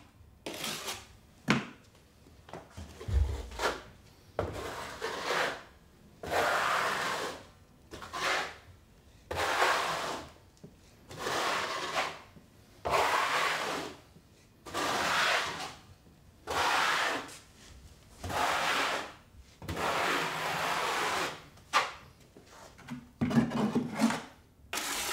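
A trowel scrapes and spreads tile-setting mortar for Kerdi membrane over drywall, giving repeated rough rasping strokes about a second or two long with short pauses between them, close up and fairly quiet, with no talking.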